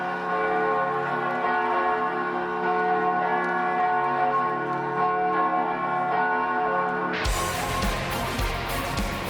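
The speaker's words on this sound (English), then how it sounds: "Bells." Big church-style bells ring out in sustained, overlapping tones during a band's live performance in Budapest, followed by a sudden burst of loud band and crowd noise.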